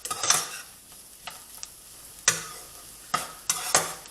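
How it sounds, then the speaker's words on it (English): Bay leaves fry gently in oil for a Sri Lankan cashew nut curry, a soft sizzle broken by several separate scraping stirs and light spoon clinks against the pan. "now I'm going to fry off the bay leaves for a few minutes to start infusing the oil"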